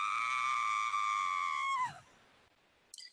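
A single sustained high-pitched scream holding steady, then sliding downward and cutting off, followed by near silence and a brief faint sound at the end.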